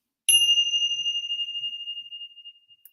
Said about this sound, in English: Brought my chimes.